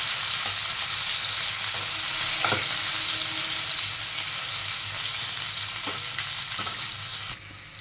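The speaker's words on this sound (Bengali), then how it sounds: "টমেটোগুলো সেদ্ধ হোক ভালো করে।" Tomatoes cook in a hot pan for muri ghonto, a continuous bright sizzle and frying hiss with a few soft stirring knocks, steady and close, then easing slightly near the end.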